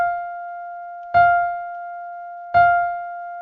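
Two clean, identical piano-like tones from a software simulation of an automated piano player, each struck sharply and sustained, evenly spaced about a second and a half apart with no talking.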